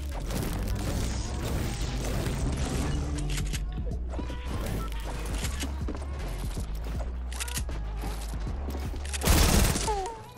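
Automated turret firing during a video game, a dense, continuous rattle of mechanical shots and impacts under game music, ending in a louder burst of crashing noise near the end.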